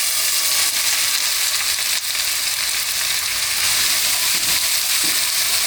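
Celery, onions and carrots sizzle in olive oil in a stock pot for minestrone soup. The frying is loud, dense and constant from start to finish, and no voices can be heard over it.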